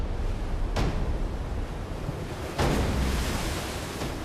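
Big ocean waves crash in the surf in a loud, steady wash of roaring noise, with two distinct surges breaking through and no voices.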